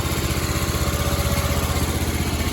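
A 1976 Sears ST12 garden tractor engine, freshly cleaned carburetor and new gaskets, runs at a steady fast idle with an even pulsing throb, close and continuous with no talk.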